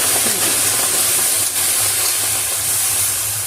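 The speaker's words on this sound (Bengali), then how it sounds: "প্রথমে আমি পালং শাকটাকে সিদ্ধ করে নিচ্ছি দেখুন একটা কড়া বসে দিয়েছি কড়ার মধ্যে পালং শাকটা" Spinach boiling in a wok, a loud continuous steamy hiss and bubbling roar held steady at close range with a low rumble underneath.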